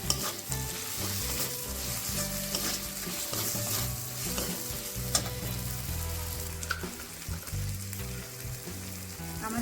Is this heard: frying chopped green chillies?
yes